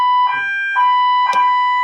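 A 5-ton military truck's electronic siren sounding its high-low mode, with three loud, steady two-tone bursts alternating evenly and nearby. No one talks over it.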